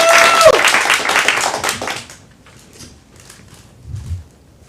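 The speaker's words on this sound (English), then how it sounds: "Let's get a big round of applause for Gary" A comedy acting showcase audience claps loudly for the next performer. A shrill whistle or whoop rides on top in the first moments, then the clapping fades after about two seconds, leaving scattered quieter sounds.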